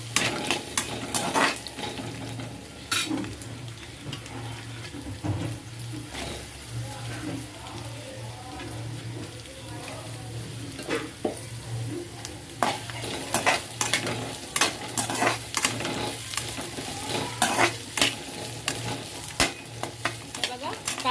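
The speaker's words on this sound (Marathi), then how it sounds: "खोबरं चांगलं आपल्याला छान असं भाजून घ्यायचं आहे" Grated coconut roasts in a pan while a spoon repeatedly scrapes and knocks against the metal, irregular clinks over a low sizzle, with occasional faint talk in the background.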